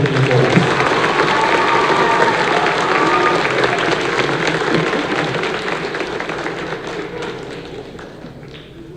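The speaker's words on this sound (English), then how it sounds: "So let's give Will another round of applause for filling in for us." An audience at a school band concert gives a dense, sustained round of applause, many hands clapping together at close range and holding steady before easing off slightly toward the end.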